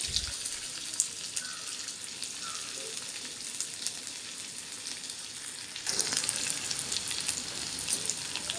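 Mustard seeds, cumin seeds, garlic and onion sauté in hot oil, giving a continuous close sizzle that surges louder partway through as more goes into the pan, with no talking.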